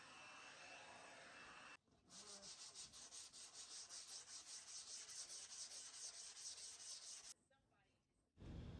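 Steady, rhythmic rasping of sandpaper rubbed back and forth over a gesso-primed canvas, close up, continuing for several seconds with brief pauses at the start and end.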